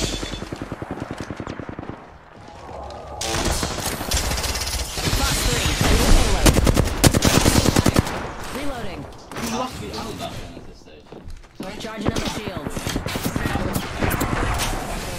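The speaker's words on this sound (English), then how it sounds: "I'm taking fire." Gunfire in the video game Apex Legends, rapid automatic bursts and single shots in uneven clusters, loud and close, with a player talking over much of the shooting.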